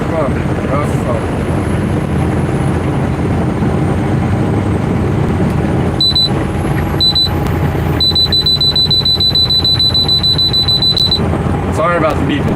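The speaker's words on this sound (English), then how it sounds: "Sorry about the beeping." Inside a car on an early morning drive, a high electronic alarm beeps in short bursts and then a longer steady tone, over constant road rumble and engine noise.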